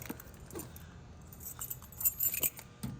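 A bunch of keys for a 1957 Chevrolet Bel-Air jangles quietly at close range in a few light, metallic bursts that grow busier toward the end.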